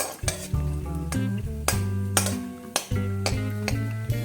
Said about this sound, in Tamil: முந்திரி பாதாம் ரெண்டுத்தையும் நம்ம இதில் சேர்த்துட்டு இதை நல்ல பொன்னிறமாக வறுத்துக்கலாம்